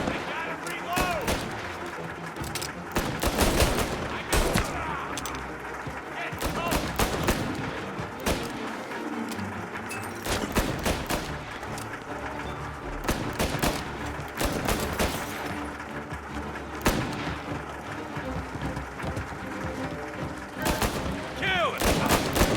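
Repeated gunfire in the video game Mafia Definitive Edition, dense bursts and single shots cracking throughout amid a busy mix, with shouted voices over the shooting.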